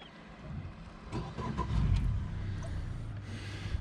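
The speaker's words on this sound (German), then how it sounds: "Zuerst den Motor starten, danach den Anker reinholen." Outboard boat motor starting up on tidal flats near a sandbank, a faint cranking catch followed by a low steady idle rumble, distant and quiet, with no talk.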